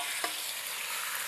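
Chicken sizzles as it hits hot garlic-flavoured oil in a wok, a brief bright spatter up front followed by a steady, close, continuous frying hiss with no talking.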